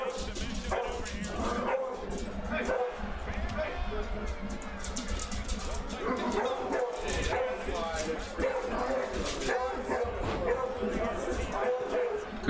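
Dogs bark and yip repeatedly in bursts throughout, mixed under continuous talking and a lively background.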